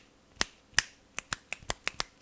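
About nine sharp hand claps, spaced unevenly and recorded up close on an UHURU UM900 budget microphone, with quiet room hiss between them.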